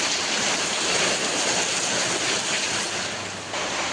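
Steady, heavy rain falls on a rainy day, a loud, unbroken hiss of downpour that stays constant throughout with no voices.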